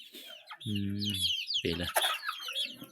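Several chicks in a flock of about twenty give a few close, short clucks and chirps, with a person's brief speech in between.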